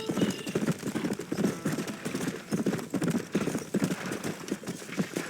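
Rapid hoofbeats clip-clop steadily throughout, a horse moving at a brisk pace fairly close, with a soft whinny woven in, in the video game Red Dead Redemption.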